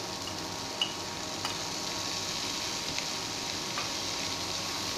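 Chopped onion, finely cut cabbage and tomato frying on high heat in a pan, a steady dense sizzle with a few faint stirring clicks, no voices.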